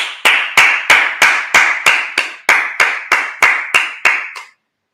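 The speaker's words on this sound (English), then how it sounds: "Let's clap it up." A church congregation at a Sabbath service claps in unison, about a dozen sharp, evenly spaced claps, loud and close, stopping abruptly with no talking.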